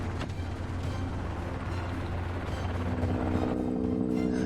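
Steady, loud helicopter rotor drone with constant vibration during an aerial hog hunt over Texas, a continuous low thrumming wash throughout with no voices.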